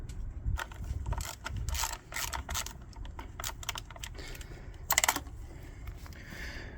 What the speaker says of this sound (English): take a T30 and undo this screw on the top